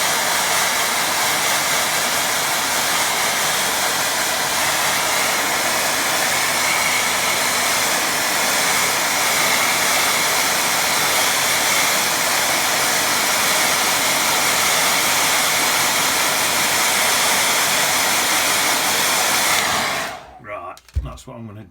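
A hair dryer blows steadily on a watercolour painting, a loud, constant close-up whoosh that runs for about twenty seconds before cutting off abruptly.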